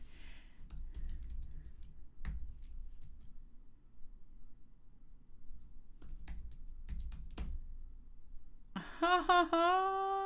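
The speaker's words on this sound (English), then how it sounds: "See how you can literally just type in it?" Computer keyboard typing in short scattered bursts of key clicks, fairly close, followed near the end by a brief tonal electronic sound.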